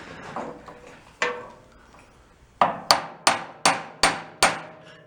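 Sharp metal hammer blows strike a frozen part on a 1962 Homko snowblower, a few scattered hits followed by a fast run of six loud, evenly spaced ringing strikes close by, with no talking.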